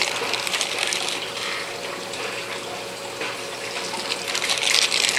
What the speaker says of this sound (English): I'm going to take some of this water out of the bag.